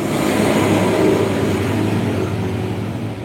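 A motor engine runs steadily with the hum of its rotating parts and piston motion, loud and close, a continuous low drone without voices.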